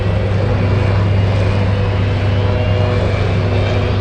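A UPS cargo plane taxis on the runway at Anchorage airport, a loud, steady engine roar and whine heard continuously from a distance with no break.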